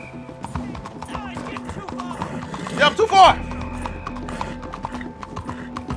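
Hooves of a galloping horse in Red Dead Redemption 2, a steady rapid clip-clop running throughout with a louder burst and a whinny midway, while someone talks over it.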